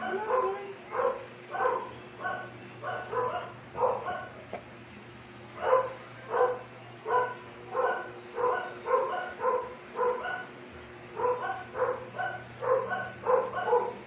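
A dog barks repeatedly in short, regular bursts, pausing briefly between runs, fairly close and alone against a faint background hum.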